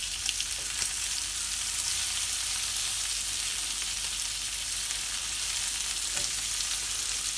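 Potatoes with chorizo sausage and a brown onion fry and sizzle steadily in a pan, with a few soft scrapes as the mixture is gently stirred; no voices.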